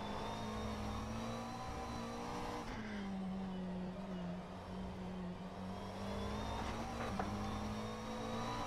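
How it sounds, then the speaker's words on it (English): McLaren 720S GT3 engine in rFactor 2 at Sebring, a steady droning race-car note with a brief dip and recovery, pushed hard and loud with no talk over it. "I'm badly overdriving the car right now."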